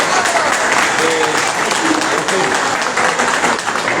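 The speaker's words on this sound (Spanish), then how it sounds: "Un fuerte aplauso." An audience at a talk on legislative power and the culture war applauds steadily, a loud, continuous wash of clapping from a large crowd lasting the full few seconds, with some voices underneath.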